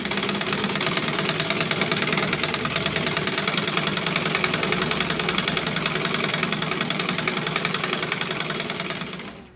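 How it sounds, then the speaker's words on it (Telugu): A foot-pedal treadle sewing machine, not motor-driven, stitching the hem of a nightie with a steady fast mechanical clatter that runs loud and continuous, then stops at the end. "కాళ్ళతోటి తొక్కుకుంటూ కుట్టే మిషనే, మోటార్ మిషన్ అయితే కాదు."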